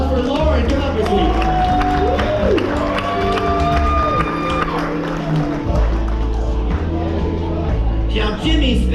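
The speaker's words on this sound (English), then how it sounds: "let's give a big round of applause for Lauren." Applause and cheering from a crowd at a stage show on a cruise ship, mixed with loud music and scattered whoops, under a busy, full-level sound throughout.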